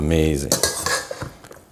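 Metal utensils clink and scrape against a bowl in a few quick strokes, mixing fried pork and shrimp egg roll filling, close and fairly loud.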